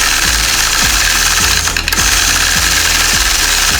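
A sewing machine runs steadily through free-motion quilting of scallop bumps, its needle hammering in a fast even rhythm with small regular surges and a brief dip midway, close and loud with no talk.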